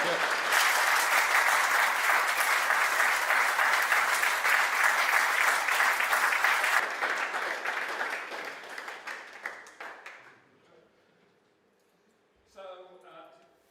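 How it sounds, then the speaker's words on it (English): Sustained applause from a football fans' forum crowd fills the first half, then thins out into scattered claps and fades, ending with a brief voice. "Big round of applause for Gary, and good luck"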